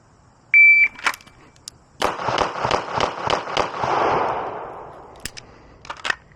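Rapid string of pistol gunshots from a Glock 45 or Beretta M9A1 at weekend target practice, about seven sharp cracks in quick succession followed by a few more scattered shots, loud and close with echo trailing off.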